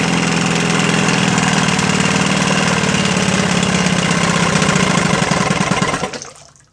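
A Johnson 15 HP outboard engine with its fuel line disconnected idles steadily with a loud, close, chugging rumble, then sputters and cuts out near the end as it runs out of fuel.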